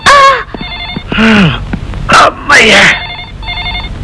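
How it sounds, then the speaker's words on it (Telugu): A telephone rings in short repeated electronic bursts, loud and nearby, while voices exclaim over and between the rings. "అదిగో డాడీ ఫోన్ చేసినట్టున్నాడు"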